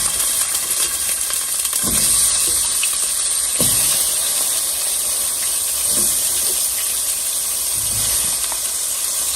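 Half an onion, a garlic clove and two tomatoes in a pot give off a steady, close hiss and sizzle throughout, with a few faint soft knocks underneath and no talking.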